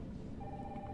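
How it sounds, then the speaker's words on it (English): A telephone rings inside the video game Batman: Arkham Asylum, a steady electronic ring tone holding over a dense, constant game background. "The phone is ringing."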